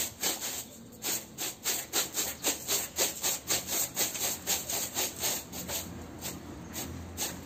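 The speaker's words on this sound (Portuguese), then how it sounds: "Vamos esfregar também um pouquinho com a vassoura." A stiff broom scrubs a dirty rug laid on the floor during washing, giving a steady run of rhythmic, bristly scraping strokes, about two or three per second, close and moderately loud with no talking.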